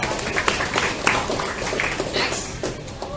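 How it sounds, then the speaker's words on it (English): An audience applauds at an evening community gathering in Kuala Lumpur, a dense, even wash of clapping with scattered louder claps, fairly close and continuous with no speech over it. "Give Matthias another round of applause."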